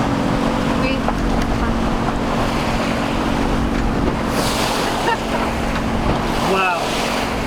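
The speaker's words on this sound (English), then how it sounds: "Funny, even a freighter doesn't leave wakes that big." Large wake waves from a passing big boat slap and wash against a sailboat on open water, loud rushing surges breaking over steady wind noise, with bursts of splashing near the end.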